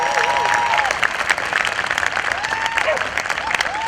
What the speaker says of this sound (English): Can we give a round of applause for Sunrise?